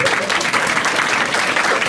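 An audience at a stand-up comedy show breaks into loud, dense applause that fills the whole moment, close and sustained without a break.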